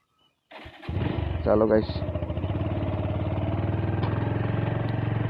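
A motorcycle with a newly changed chain sprocket cranks and fires up, then settles into a loud, steady, close idle with a brief rev, while someone speaks briefly at the start.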